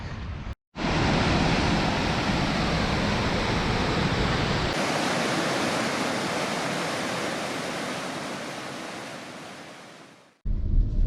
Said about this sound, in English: Woolshed Falls after torrential rain.